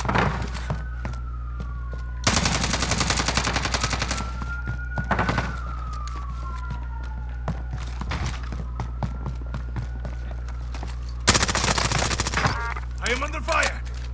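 Automatic gunfire in a Warzone match on Rebirth Island, loud rapid bursts in several separate volleys over a low steady hum, with a wailing siren rising and falling between them and brief voice chatter.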